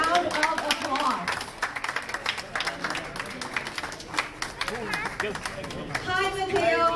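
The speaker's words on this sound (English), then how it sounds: "Let us give him a big round of applause." Applause from an event crowd greeting Saucony's newest ambassador at a brand launch, dense clapping under a loud, continuous stream of talk and cheering voices through most of the stretch.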